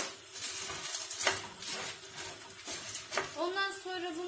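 Pasta sautéing in melted butter in a pan, a steady sizzle broken by scraping stirs and light clinks of utensil on metal, close and fairly loud.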